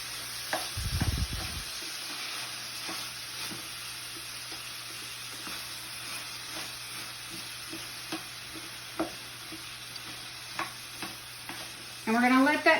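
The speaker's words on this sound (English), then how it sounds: "Keep stirring it around so it doesn't get stuck to the sides or the bottom" Vegetables coated in oil are stirred around a hot pan, with a continuous sizzle and repeated scraping and tapping strokes of the spoon. A brief louder rattle comes near the start and another at the end.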